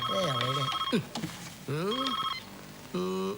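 A mobile phone rings in a scene from the Telugu film Jalsa, playing a warbling electronic ringtone in three close bursts separated by short pauses.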